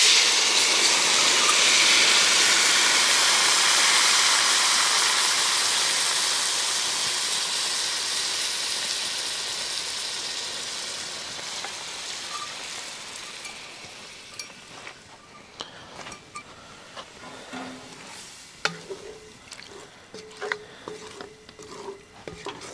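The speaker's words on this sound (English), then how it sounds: "Now we're going to add the wine" Red wine, two cups, poured into a hot pan of floured braised beef short ribs, a loud broad sizzling hiss that slowly fades over about fifteen seconds, followed by scattered clicks and scraping as the pan settles.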